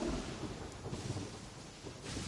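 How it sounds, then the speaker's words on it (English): Thunder rumbles during a storm in the Genshin Impact video game, a low rolling roar with rain hiss and a few soft surges, and no talking. "Did you get struck by lightning?"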